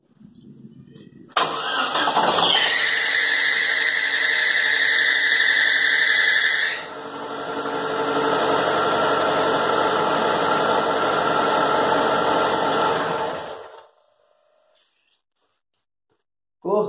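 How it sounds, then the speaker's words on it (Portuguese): Chevrolet Celta engine with a worn alternator belt or bearing cranks and starts up close, settling into a loud steady idle with a sharp high squeal over the running for several seconds before shutting off. "vamos ver esse barulho agora da correia ou algum rolamento aí que ele me relatou"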